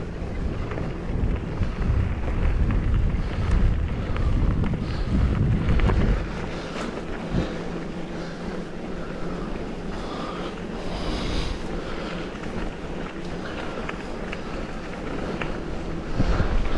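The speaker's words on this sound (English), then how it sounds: "Wind's starting to get up a bit now." Wind blowing outdoors along the Transpennine Trail near the Woodhead Tunnel, a loud low rumble buffeting the microphone, strongest at first and then settling into a steady gusty roar, with no talk.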